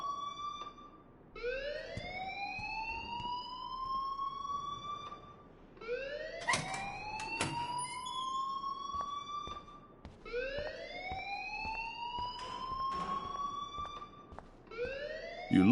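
A fire alarm blares in the video game Life Is Strange, rising in pitch and repeating in a slow wailing cycle about every four seconds, loud and continuous with no talk over it.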